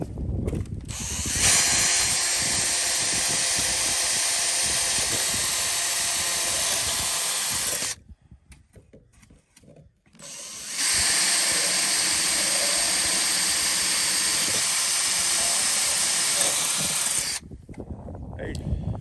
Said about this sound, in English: we're countersinking our screws